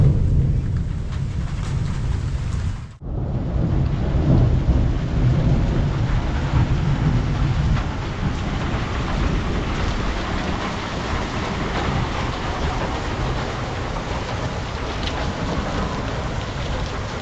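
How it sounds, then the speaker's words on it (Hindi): Heavy mountain rain with hail pours at Kedarnath, a loud, unbroken drumming downpour with low thunder rumbling through it, briefly cutting out near the start before resuming just as hard. "ये देखो, बाप रे, बहुत तेज बारिश आ गई यार।"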